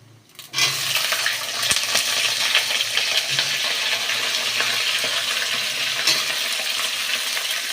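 Chopped cauliflower, pumpkin and green peas hit hot oil seasoned with bay leaf and whole cumin, breaking into a loud, steady hiss and sizzle that holds for several seconds with occasional stirring clatter.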